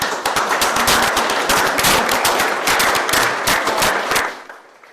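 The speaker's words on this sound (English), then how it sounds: "Clap." Dense audience applause after a university MFA thesis exhibition artist talk, many hands clapping rapidly and loudly, sustained for several seconds before tapering off at the end, with no talking over it.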